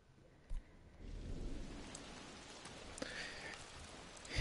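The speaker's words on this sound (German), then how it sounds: "Ich mag diesen Regen nicht mehr." Steady rain in the video game Ghost of Tsushima patters and hisses across the scene, a soft constant wash with a few sharper drops, no talking.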